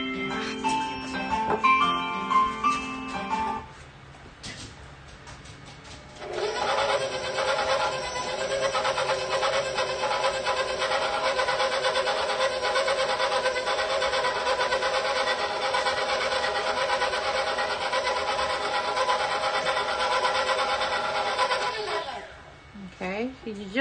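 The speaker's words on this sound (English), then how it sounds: "pulse this slowly at first" A food processor pulses chocolate avocado cake batter, first a few short bursts, then a long steady whirring run of about fifteen seconds that stops abruptly; loud and close, with no talk over it.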